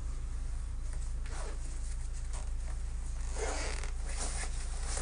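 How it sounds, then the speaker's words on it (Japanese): A zipper is opened on a light spring coat, making quiet intermittent rasping pulls over a low steady background hum. "ここにファスナーがあり"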